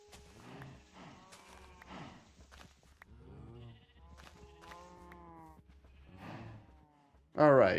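Minecraft cows low in a series of drawn-out, wavering moos that overlap one another at moderate volume, with a sudden louder burst of sound right at the end.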